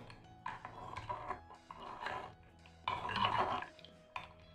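A spoon stirs sharbat drink in a pot, giving close, soft clinks and scrapes against the metal that come in short irregular bursts, fairly quiet, without talk.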